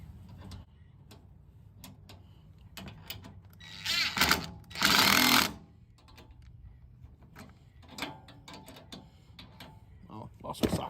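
A ratchet snugs bolts on an Oedro bull bar bumper fitted to a 2007–2021 Toyota Tundra, with sparse close clicking in short runs and a louder rushing burst midway.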